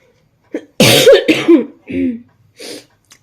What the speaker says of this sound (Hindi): इग्नोर करना, मेरी खांसी हो रही है।